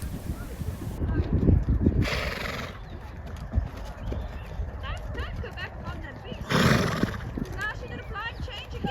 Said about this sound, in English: here was Binksy's first canter on the very speedy and excited Shiloh